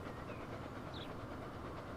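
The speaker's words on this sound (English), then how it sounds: "a decent fast train with decent acceleration probably doing about 60, maybe even 70 miles per hour by now" Fast train in the game Transport Fever 2, running at around 60 to 70 mph through a busy junction: a steady faint rolling rumble with soft rhythmic wheel noise throughout, no voices.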